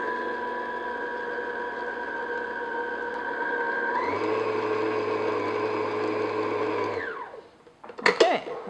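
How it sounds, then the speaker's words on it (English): Flour, salt and baking powder for classic yellow cupcakes whirring in an electric mixer, a steady motor drone that rises in pitch partway through, then spins down and stops, followed by a few clattering knocks. "And then we're just going to mix those together, maybe like 30 seconds."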